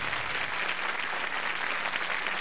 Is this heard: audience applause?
yes